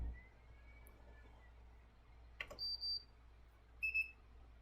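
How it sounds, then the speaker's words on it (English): Two short electronic beeps from a battery charger for R/C boat batteries ring out a second apart, faint and high-pitched, over a quiet background hum. "And then 2 should be the battery charger. You'll hear it beep here in a second."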